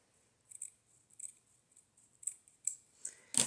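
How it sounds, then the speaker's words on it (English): Scissors snip through a length of material for a journal spine, a series of short crisp cuts with pauses between them, close and quiet, building to a louder final snip. "Let me go ahead and cut my piece, my length."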